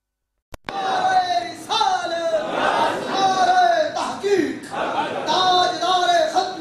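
A gathering at a devotional recitation of Qasida Burda Sharif responds in unison to the Nara-e-Takbir call, the massed voices chanting Allahu Akbar loud and close, rising in repeated surges over a few seconds.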